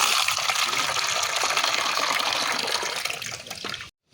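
Water gushes steadily as it is poured into a container for chickens to drink, a close, continuous splashing stream lasting about four seconds before it stops abruptly.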